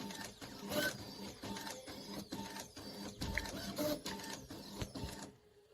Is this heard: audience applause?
no